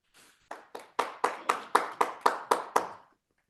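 Audience applause breaks out at a school district board meeting, a short burst of about ten evenly spaced, sharp clapping pulses that swell quickly and stop abruptly after roughly three seconds, with no talking over it.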